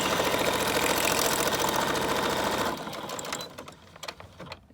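A sewing machine stitches paper scraps for a junk journal in a fast, rattling run that stops partway through, leaving a few faint clicks and handling noises.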